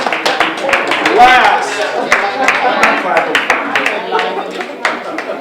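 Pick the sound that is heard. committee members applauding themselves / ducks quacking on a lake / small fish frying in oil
committee members applauding themselves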